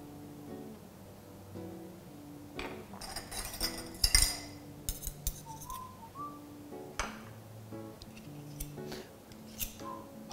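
A spoon clinks and scrapes against a dish while tomato salad with cream cheese is made, in scattered short metallic taps and scrapes over soft background music with a whistled melody.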